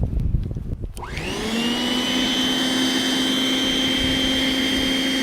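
An electric snow blower starts up with a brief rising whine, then runs with a steady, loud, even motor hum and airy roar, close by and alone, like a large hair dryer.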